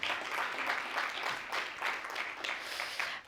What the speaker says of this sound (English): And we can clap for her